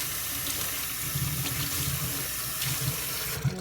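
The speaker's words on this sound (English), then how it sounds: "You soak it in water." A kitchen tap runs steadily into a sink, wetting a sheet of parchment paper, a continuous close splashing gush with a few brief knocks.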